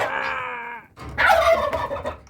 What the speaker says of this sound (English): And over here, the turkey.